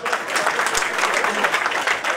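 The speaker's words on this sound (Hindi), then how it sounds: "अच्छा, बजाओ ताली।" Audience clapping at a Hindi kavi sammelan comedy poetry gathering, a steady dense wash of applause from a crowd filling the whole moment.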